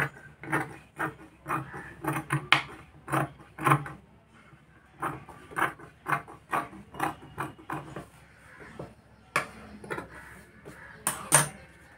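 Scissors snip away surplus blouse fabric at a stitching table, with a string of short, crisp cuts in an uneven rhythm, close and moderately quiet, and a brief pause partway through.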